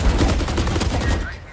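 Rapid gunfire in the tactical shooter Valorant, a dense, continuous burst of close shots with booming low end that holds steady for the whole moment before easing off near the end.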